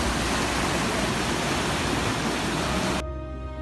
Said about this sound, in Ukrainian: Водоспад розташований у нижній течії річки Кам'янки.